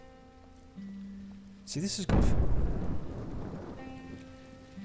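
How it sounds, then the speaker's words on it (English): Rain starts falling in the survival video game SurrounDead, a sudden swell of dense, hissing downpour with a rumbling roll like thunder, while someone talks over it. "And it's just started raining."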